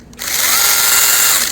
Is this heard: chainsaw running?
yes